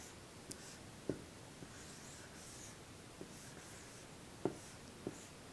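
A pencil or pen writes the word eight by hand, faint scratchy strokes with a few small taps between short pauses in a quiet room.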